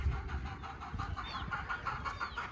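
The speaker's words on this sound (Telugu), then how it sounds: "ఇవైతే మన ప్రస్తుతం ఉన్న కోళ్ళు" Native country chickens clucking close by on a poultry farm, a continuous overlapping chorus of clucks and short calls against low background noise.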